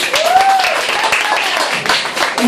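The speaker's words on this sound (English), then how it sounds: "Give him a clap" An audience at a meet-the-author talk gives a short round of applause for Don, with scattered claps mixed under voices.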